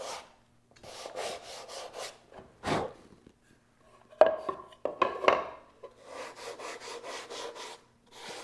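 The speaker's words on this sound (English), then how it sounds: "lightly sanding that just on the edge. The edge of the edge." Light hand sanding with 220-grit paper along the edge of a wooden top: short bursts of rasping strokes in irregular groups, close and fairly quiet, separated by brief pauses with a few small knocks.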